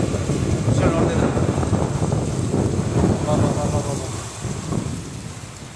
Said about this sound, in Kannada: ಇಷ್ಟೊತ್ತು ಬಿರುಗಾಳಿ ಈಗ ಭಾರಿ ಮಳೆ ನೋಡಿ ಯಾವ ರೀತಿ ಮಳೆ ಬರ್ತಾ ಇದೆ